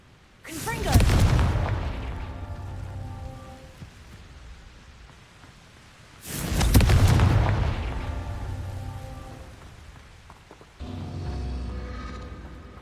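Confringo fire spell blasts in the wizarding video game Hogwarts Legacy, two heavy booming explosions a few seconds apart, each trailing off into crackling rumble, with a softer third burst at the end.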